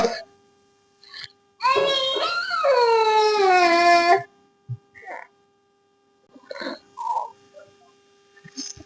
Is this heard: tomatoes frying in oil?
no